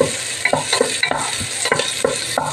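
Pork sinigang stirred in a pot, with a steady run of close, rhythmic scraping and clinking strokes roughly every quarter second over a constant bubbling, sizzling hiss.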